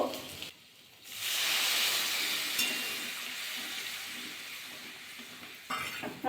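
Spice mix stirred in a pan after water is poured in, a short pause then a broad hissing bubble with soft stirring scrapes, close and steady, no voices.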